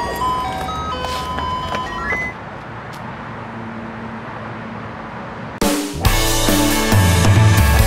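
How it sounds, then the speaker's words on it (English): An ice cream truck's tinkling chime melody plays first, then fades under a steady road-noise hum. A louder mechanical burst of vehicle and music sound cuts in near the end. "ice cream truck."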